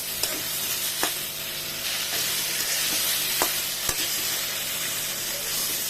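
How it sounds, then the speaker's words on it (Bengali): Bananas stir-frying in a pan, a steady sizzle with occasional sharp scrapes and knocks of the spatula, close and continuous with no talking. "এখন আমি কলাগুলো দিয়ে ভালো করে কষিয়ে নিব।"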